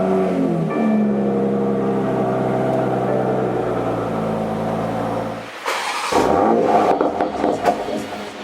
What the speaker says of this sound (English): All right, first startup. Let's see if everything works good.